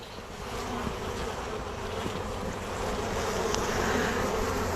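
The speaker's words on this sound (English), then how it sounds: "I'm just going to scoot these bees directly into this container" Honey bees buzz in a dense, steady drone as a beekeeper scoots them into a container, the hum holding close and continuous and swelling slightly toward the end.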